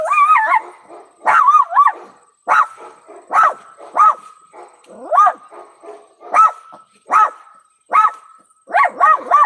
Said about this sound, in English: Did y'all see that big old dog back there? That's good that she's barking